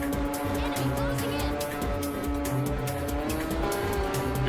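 Race car engines drone and rev steadily in the Ridge Racer 7 racing video game, with tire squeal over a dense, continuous wash of motor noise that stays loud throughout.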